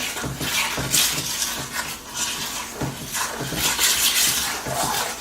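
A spoon folds apple spice muffin batter in a bowl, giving a continuous close run of soft scrapes, wet squelches and light clinks, with no talk.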